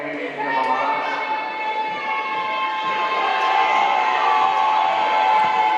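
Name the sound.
basketball game crowd getting loud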